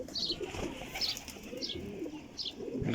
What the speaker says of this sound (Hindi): कसूरी कबूतरां विचों ते सियालकोटी कबूतरां जो क्रॉस है माशाल्लाह